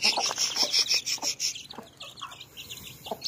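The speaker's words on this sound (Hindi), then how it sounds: "और अभी बड़ी मुर्गी आ रही है इनकी तरफ" Chickens clucking and chirping while being fed at a pet house, close and repeated calls with a faint rustle between them.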